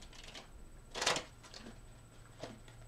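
Tarot cards shuffled close by, a few quiet riffling bursts with one louder flurry in the middle, alone in a quiet room.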